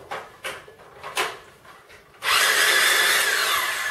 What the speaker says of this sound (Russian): Циркуляция.